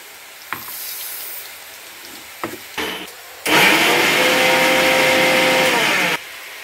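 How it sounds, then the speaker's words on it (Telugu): A few clicks and handling knocks come first, then a kitchen mixer grinder roars loudly for about three seconds, grinding cooled mustard and fenugreek seeds for amla pickle, before stopping. "ఇప్పుడు మిక్సీ పట్టుకున్నాము ఇవి"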